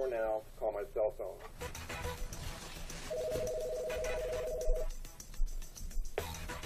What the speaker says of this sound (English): Dial 4 now, call my cell phone.